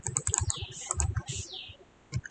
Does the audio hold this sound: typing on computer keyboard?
yes